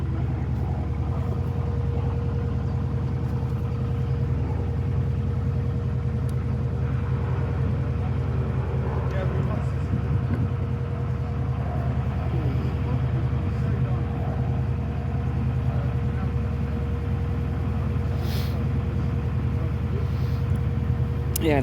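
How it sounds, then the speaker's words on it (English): A Lister SR2 diesel inboard engine drives a boat on a clear river, a steady low thudding rumble running continuously and fairly close, with faint talk now and then over it. "the engine of the boat is a Lister SR2"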